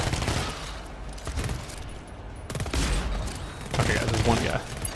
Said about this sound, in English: the combination of them headshotting with the Hell Revolver and me shooting them with the auto pistol